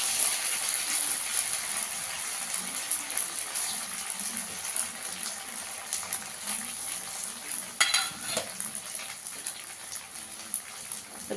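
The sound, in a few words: frying papaya paneer in oil in a wok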